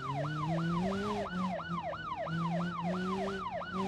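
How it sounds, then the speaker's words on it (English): An emergency siren wails in the BeamNG.drive driving game, a fast repeating rising-and-falling yelp over a low engine drone, loud and steady, with no talking. "I wish I could turn off the sirens."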